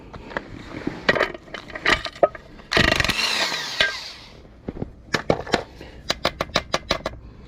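A socket wrench loosens a nut on a Victa G4 two-stroke lawn mower, close and clear, with irregular clicking ratchet bursts, a rough scraping stretch of metal grinding, then quick dense clicks near the end.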